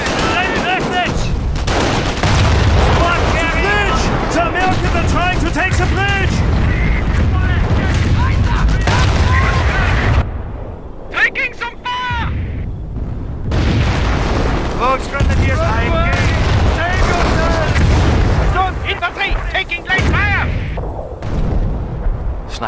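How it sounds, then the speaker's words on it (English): Incendiary bombardment in the WWII strategy game Company of Heroes, set in the Falaise Pocket, with heavy booming blasts and crackling gunfire rolling continuously, loud and dense, while voices talk over the battle. "Incendiary attack is on its way."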